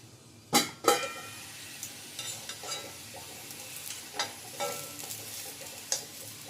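Litti balls frying in oil in a kadhai, a steady low sizzle with clinks and light stirring knocks from turning them, plus a couple of sharper clatters near the start; no talking.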